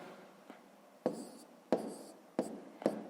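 Numbers are written by hand during a math exercise, a pen or pencil scratching in short strokes with four distinct taps and scrapes over a few seconds, close and fairly quiet.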